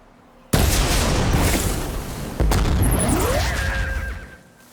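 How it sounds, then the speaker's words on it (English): A heavy cannon is knocked off a Ravager machine in the game Horizon Forbidden West, two loud booming crashes each followed by a sustained roaring rumble with metallic ringing and screeching fragments. "I can knock the Ravager cannon off."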